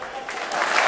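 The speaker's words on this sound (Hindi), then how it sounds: "लैंडर मॉड्यूल तालियों की गड़गड़ाहट देखिए। People are applauding." Applause from a crowd at the Chandrayaan-3 lander touchdown, a steady wash of clapping that swells slightly louder toward the end, with voices mixed in.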